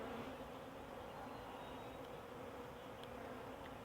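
Honey bees hum from inside a shipping package, a steady dense buzz of many insects that keeps an even level throughout, with no voices.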